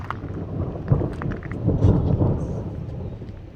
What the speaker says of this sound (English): Now it's under this one thunder.